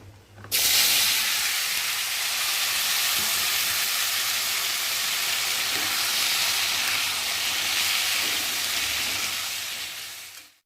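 Taro and potato fry with cumin in a pan, a loud, continuous sizzling hiss that starts abruptly, stays steady for about ten seconds, then tails off.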